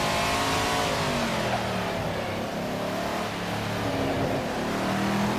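Race car engine in the Assetto Corsa racing game, loud and continuous, with revs shifting as it brakes hard and drops down through the gears toward first, no talking over it.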